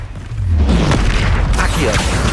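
Spell explosions boom in the Hogwarts Legacy video game, a dense, loud rumble of blasts and crackling magic layered over game action, with no clear pause.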